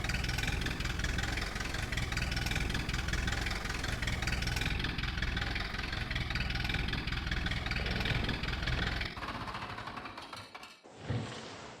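Old Ursus tractor engine running just after starting, a loud steady diesel chug and rumble close to the microphone that holds for about nine seconds before dropping away with a few clatters and a final bump.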